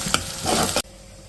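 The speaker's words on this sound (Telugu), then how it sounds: "కొన్ని ఆవాలు, జీలకర్ర, ఉల్లిపాయలు, ఇప్పుడు 4 పచ్చిమిర్చి." Mustard seeds, cumin, onions and green chillies frying in hot oil, a loud close crackling sizzle that cuts off abruptly after under a second, leaving quiet room tone.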